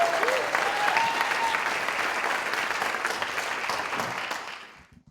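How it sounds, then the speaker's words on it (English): Audience applause at a startup competition grand finale, a dense, steady wash of clapping from a large crowd that holds strong for about four seconds before fading out. "Let's give her a big round of applause for Leafe."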